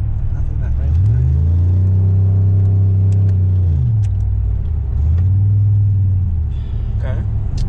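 A 2008 Pontiac Grand Prix GXP driving on a street, its loud engine droning and rising through two long pulls with a brief drop between, close up inside the car.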